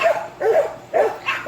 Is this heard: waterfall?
no